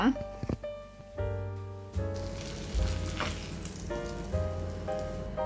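King fish pieces in masala fry crackle and sizzle in a hot pan, a steady bright hiss with scattered pops under a voice.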